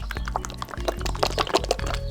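Liquid face primer sloshing and dripping inside its bottle, a close, steady stream of small wet trickles and drips that runs through the whole stretch.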